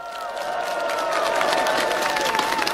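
A crowd at an outdoor political campaign rally in Jeonju applauds and cheers to welcome a lawmaker to the stage, steady loud clapping mixed with shouts and a sustained tonal hum running underneath.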